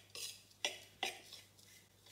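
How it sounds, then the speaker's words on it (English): A spoon stirs a buttery oat crumble mix in a bowl, giving a few quiet, separate scraping clinks spaced about half a second apart, with no one talking. "give it one last mix"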